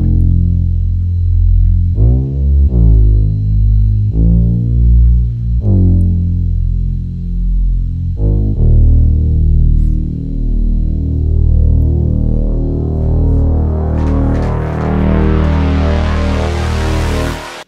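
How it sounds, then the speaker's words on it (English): Wide synth bass built in Propellerhead Reason, loud and droning, a few sustained low notes with rich harmonics that ends in a swelling bright filter sweep, with no voice. "want to learn how to make a bass that sounds like"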